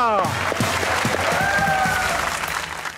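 A comedy talk show studio audience breaks into sustained applause, with a voice briefly audible at the start and a whistle-like tone rising over the clapping.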